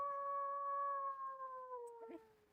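A wolf howl sound effect: one long, smooth, drawn-out tone that slowly falls in pitch and fades at the end. It is fairly faint and heard alone, with no talking.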